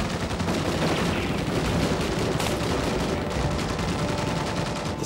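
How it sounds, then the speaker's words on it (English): Dense, continuous gunfire effects from the Terminator 2 3D: Battle Across Time theme park show, a loud sustained barrage of rapid shots and booms with no pauses. "Commence firing."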